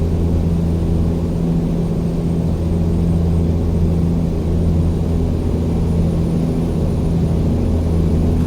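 Truck engine in American Truck Simulator with a steady low drone and a slight throttle blip as the gear engages, loud and continuous with no talk.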